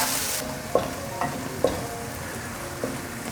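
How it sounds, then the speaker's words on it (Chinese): Soybean pulp (okara) stir-fries in hot oil in a wok, with a continuous close sizzle broken by a few sharp scraping clicks of the spatula at irregular intervals. "快速翻炒。"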